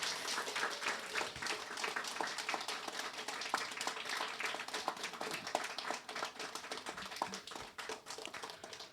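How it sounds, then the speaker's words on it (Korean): A large audience applauds at a religious blessing ceremony in a hall, a dense, steady wash of many hands clapping for about nine seconds, distant and fairly soft with no voices on top. "뜨거운 박수를 부탁드리겠습니다."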